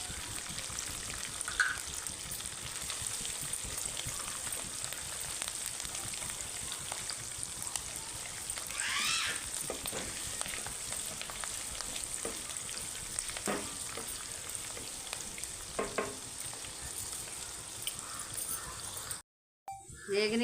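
Green chillies fry in hot tempering oil, giving a continuous soft sizzling hiss with occasional spoon scrapes and splutters, fairly quiet throughout and briefly cut off near the end.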